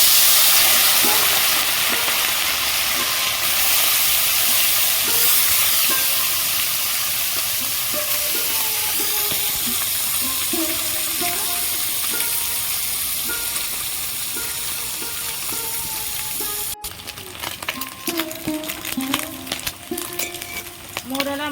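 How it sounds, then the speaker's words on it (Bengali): Small mourola fish fry in hot oil with a loud continuous sizzle and hiss, steady at first, then joined by sharper crackles and spatter toward the end. "তেল গরম হয়ে গেছে মোরলা মাছগুলো ভেজে নেবো"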